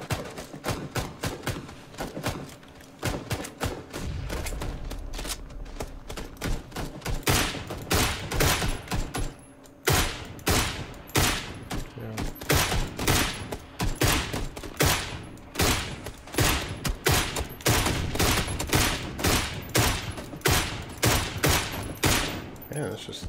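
Rapid bursts of gunfire from the battle royale game PUBG, dense regular cracks that fill most of the stretch with a brief pause near the middle, loud and close, with faint talk beneath.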